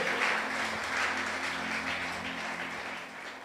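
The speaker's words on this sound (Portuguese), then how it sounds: "Aplauda Ele bem forte." A church congregation claps strongly during a service, a thick continuous wash of many hands over a low sustained tone from music or amplification, steady and moderately loud throughout.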